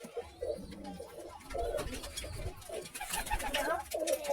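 Homer pigeons coo in repeated, soft, throaty rolling calls close by, with overlapping birds and faint background rustle.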